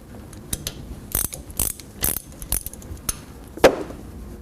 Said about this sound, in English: grab a 3/8-inch ratchet and remove that plug